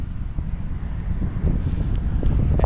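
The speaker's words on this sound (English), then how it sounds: "the wind is still blowing right into me, and it's very, very strong" A strong, cold northern wind blows in Austria during a cycling trip. It buffets the microphone with a constant low rumble that grows slightly stronger partway through, and there is no talk.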